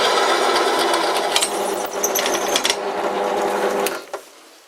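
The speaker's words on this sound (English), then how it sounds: "This drill press you can probably stop by just grabbing it." A drill press runs with a steady mechanical whir and grinding as the bit cuts through material, then winds down and stops near the end.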